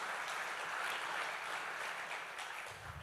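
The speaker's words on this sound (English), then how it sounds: "let's give the last round of applause to everybody who's helping us this year" Conference audience applauding, a steady wash of clapping from a crowd heard at moderate distance, continuous throughout with no break.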